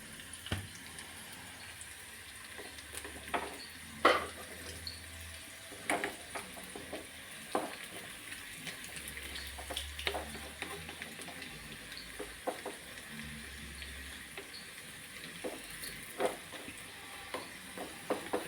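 A jackfruit mixture fries in a pan with dried red chillies, soft sizzling under repeated scraping and clinking stirs of a spoon, close and fairly quiet.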